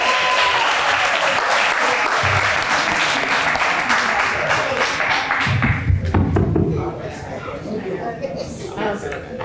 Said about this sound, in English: Let's give our police chief a round of applause.